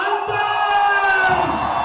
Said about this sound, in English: cheer for Ayush and Maima for